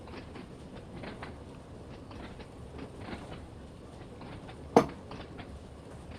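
A simulated train on the Isle of Wight line in Train Sim World 2 runs with a steady rolling rumble and faint rhythmic wheel clatter, then a single sharp clunk near the end.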